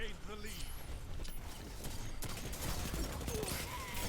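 An auto rifle fired from the hip in the game Destiny 2, rapid bursts of gunfire with mechanical clatter under a voice.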